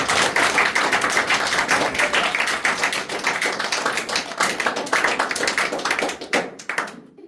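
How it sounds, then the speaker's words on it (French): A congregation at a French-language church testimony service claps rhythmically in a steady, close, dense beat that thins out and stops near the end. "Ah oui, mais le peuple applaudit."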